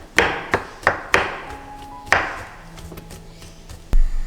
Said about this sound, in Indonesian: sekarang kita cincang jamur